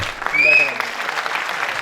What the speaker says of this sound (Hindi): प्लीज खड़े होकर तालियां बजाकर मैं उस शख्स को इनवाइट करना चाहता हूँ।